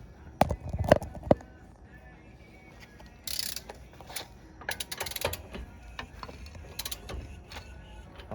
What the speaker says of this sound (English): torque your lug nuts down to 76 foot-pounds on the the second gen GS